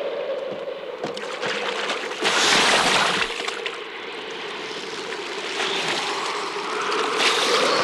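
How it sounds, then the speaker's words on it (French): Huge ocean waves in an animated Viking cartoon roll and crash in a loud, continuous roar of surf and wind that swells and eases without a break, and no voices are heard. "Des vagues énormes arrivent, regardez!"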